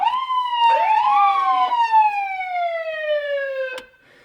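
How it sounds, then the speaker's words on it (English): A loud, close police siren in dual-tone mode, with two tones sweeping and overlapping, winding down in pitch before cutting off. "So I can actually run dual tone with these sirens"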